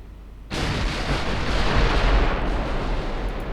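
Heavy battleship guns fire in Ultimate Admiral Dreadnoughts with a sudden booming blast that rolls into a long, loud, rumbling roar, with no voices over it.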